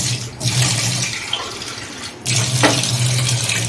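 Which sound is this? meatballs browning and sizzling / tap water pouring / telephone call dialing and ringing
tap water pouring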